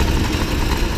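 A 1985 Motobécane 51 V moped engine runs loud and steady at a constant rumbling pitch, close up, with no change in revs.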